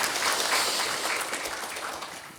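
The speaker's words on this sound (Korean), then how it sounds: "박수 한번 보내주실까요?" Church congregation clapping, a dense, steady burst of applause filling the room for a couple of seconds before tapering slightly.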